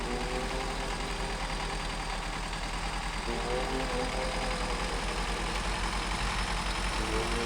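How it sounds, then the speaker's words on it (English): A heavy truck engine in the SnowRunner off-road driving game holds a steady, continuous drone whose pitch creeps upward as the RPMs climb, loud and unbroken throughout. "we can hear the RPMs increasing"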